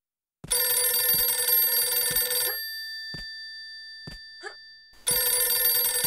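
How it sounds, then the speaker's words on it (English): An old-style telephone bell rings in two long bursts with a pause between, loud and close, in a fan-made Tomb Raider level; the ringing lingers and decays, and no one speaks. "Is that the phone ringing?"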